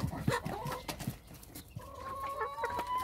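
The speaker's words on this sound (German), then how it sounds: "Das, meine Lieben, ist die Hackordnung der Hühner." Several chickens settling their pecking order, clucking and squawking close by in short bursts with drawn-out calls, alongside a few sharp pecking or scuffling thumps.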